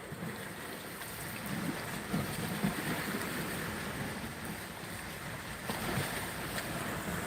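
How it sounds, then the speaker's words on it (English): Cold wind blows by the Great Lakes shore, a steady broadband rush with gusty swells and faint water wash, close and continuous without talk. "That wind, it's cold."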